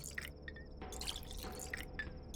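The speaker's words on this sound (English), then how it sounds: "Okay, so now I can get water." Water being collected in the video game Pathologic 2, a few soft drips and wet splashes with faint higher tones, quiet and close.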